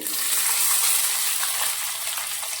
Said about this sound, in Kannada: ಸಾಸಿವೆ ಜೀರಿಗೆ ಚಟಪಟ ಅಂತಿದ್ದವು